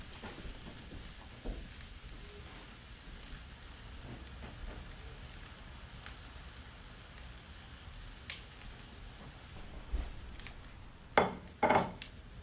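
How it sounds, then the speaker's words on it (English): Steak sizzles quietly over a fire in an indoor fireplace, a soft steady hiss broken by occasional crackles and a few sharper pops toward the end. "Sizzling."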